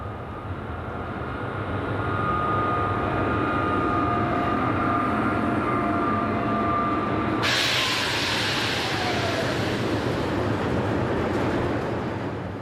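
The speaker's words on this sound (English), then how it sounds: "Seen approaching the camera is dual voltage electric number" A dual voltage electric locomotive approaches near Dijon, a steady loud rail rumble with a sustained tonal whine that swells and brightens sharply midway as it draws close, staying loud to the end.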